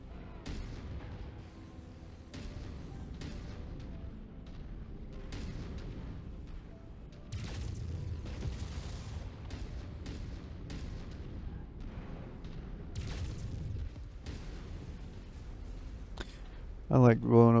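Explosions from bases being destroyed in the Mechwarrior 5 video game: repeated booming blasts and bursts at irregular intervals, fairly faint and low, ending with a louder synthetic burst.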